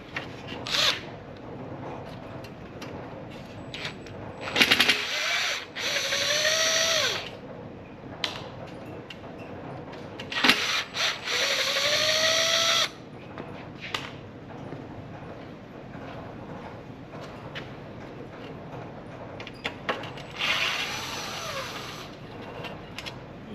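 A cordless power driver whirs in several short bursts, each a few seconds long, backing screws out of a jalousie window frame on a 1970 VW Bus, with light clinks and handling noises between bursts.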